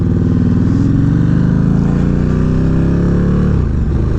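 A motorcycle accelerating on the road to pass a car, its engine close and loud with rising revs that climb steadily and then drop off sharply near the end.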